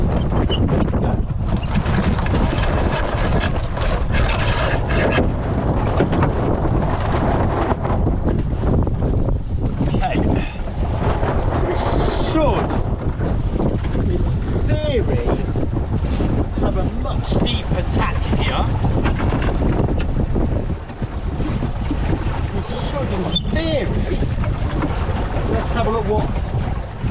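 Strong wind buffets a sailboat on a lake, a continuous loud roar of gusts and microphone wind noise mixed with water rush, with voices under it at times.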